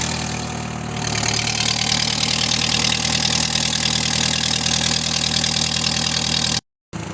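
An Audi TT engine idles close by with a steady, slightly knocking mechanical rumble, broken by a brief dropout of silence near the end.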